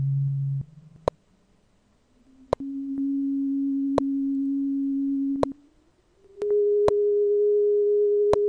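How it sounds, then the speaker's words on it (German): Pure sine tones from Overtone Analyzer software sound in steady sustained steps, each held for a few seconds and rising in pitch, with brief clicks and short gaps between them. "Und da ist der erste Sinuston."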